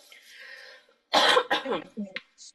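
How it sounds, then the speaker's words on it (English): A single harsh cough bursts out after a brief quiet exhale, followed by a couple of smaller throaty coughs, close and fairly loud. "excuse my cough"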